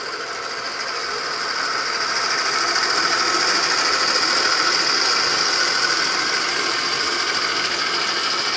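Model train locomotive on a layout steadily building speed, a continuous mechanical whir and rattling drive noise that grows slightly louder and holds steady, with no talking.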